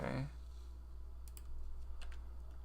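Typing on a computer keyboard, a few soft, sparse key clicks close by in a quiet room.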